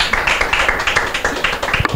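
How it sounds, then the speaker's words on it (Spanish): A crowd at a Valencian falla event honoring the Fallera Mayor claps in quick, steady rhythmic bursts, close and loud, with the claps falling in a regular pulse over a dense background of crowd noise. "venga, fuerte aplauso"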